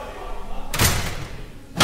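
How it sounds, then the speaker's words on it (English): A locker door slams shut in a wrestling locker room with a heavy, sharp bang, followed by a short rumbling thud and a second knock at the very end. "slams a locker door"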